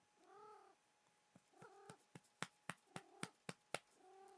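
A cat meows three times in drawn, wavering calls between sharp tapping knocks, the meows close and clear, the taps quickening toward the end.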